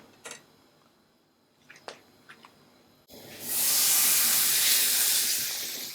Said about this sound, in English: We're gonna put the veal